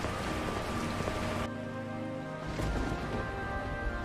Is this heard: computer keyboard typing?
no